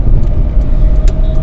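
A carbureted 2004 Maruti 800 engine hums steadily while the car drives, a continuous low rumble up close with a faint whine and no talk over it.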